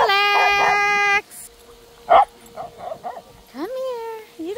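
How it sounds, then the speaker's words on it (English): A dog barks, yips and whimpers in short, uneven bursts at close range, with high whining tones, while people are heard talking in between. "You don't need to bark, buddy."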